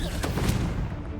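The Confringo explosive spell fires in the video game Hogwarts Legacy, producing a short, loud blast with crackling bursts and a booming tail lasting about a second.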